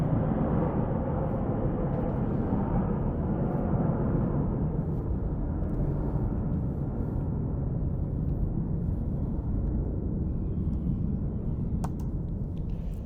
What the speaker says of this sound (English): We'll let this jet go by.